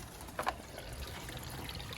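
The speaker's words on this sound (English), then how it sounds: "the water is coming out freely from the drain hose" Water flows out of a washing machine's drain hose in a soft, steady trickle and pour, fairly faint, with a couple of brief splashy spikes near the start and no talking.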